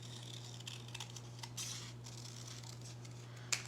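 Scissors cutting paper into a half circle, faint close snips and rustles over a steady low electrical hum, with a sharper click near the end.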